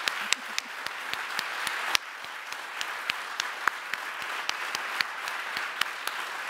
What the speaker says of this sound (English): yes, we can applaud that.